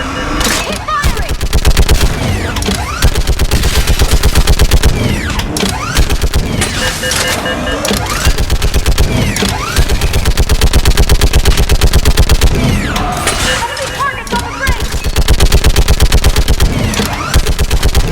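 Sustained, loud automatic gunfire in a Mass Effect 3 battle, with rapid rattling bursts that surge and ease repeatedly against a dense backdrop of combat noise.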